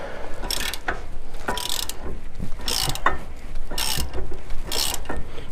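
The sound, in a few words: ratchet removing brake bracket bolt on Ram 1500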